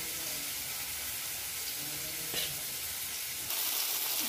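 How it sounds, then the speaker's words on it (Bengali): Onion, green chili and tomato frying lightly in a pan, a steady soft sizzle running throughout with a brief scrape partway and a slightly louder hiss near the end, no voices. "পেঁয়াজটা কাঁচা লঙ্কা টমেটোটা হালকা ভেজে নিয়েছি"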